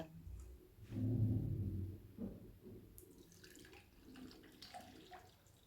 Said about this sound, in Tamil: இப்போ இதை வடிகட்டி எடுத்துக்கலாங்க